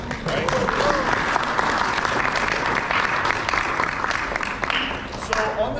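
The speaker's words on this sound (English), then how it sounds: "Give yourselves a round of applause for being here all day long" A convention crowd applauds at a comic creators' panel at Fan Expo Dallas, sustained and full-bodied clapping from many people in a hall, steady throughout with a slight easing toward the end.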